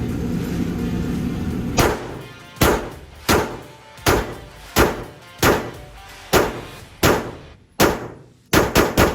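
A series of sharp gunshots from a Smith & Wesson .22, roughly one per second, each loud crack ringing briefly, with a quicker cluster of shots at the end.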